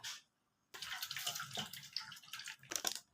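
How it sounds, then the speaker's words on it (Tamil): Oil is poured into samosa dough made of maida flour, salt and water, a brief close liquid splash and trickle after a short silence. "ஆயில் ஊற்றிக்குங்க."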